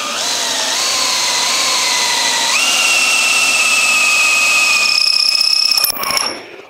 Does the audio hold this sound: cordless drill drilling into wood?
yes